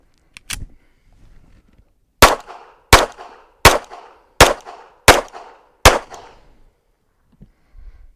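Close-range gunshots striking self-healing steel-plate alternative targets: one early shot, then six sharp, evenly spaced loud cracks about a second apart, each ringing briefly, with quiet gaps between.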